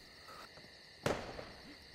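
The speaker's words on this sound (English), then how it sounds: "That's a flare." A flare fired in the Dino Wars game: one sharp whooshing pop about halfway through, moderately loud, with a short fading hiss after it over a faint, quiet background.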